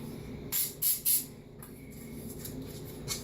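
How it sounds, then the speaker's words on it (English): Three short hissing bursts of flour baking spray from a can onto a muffin pan, close by, followed by a quieter puff a moment later over faint background noise. "I am going to spray them with some flour baking spray."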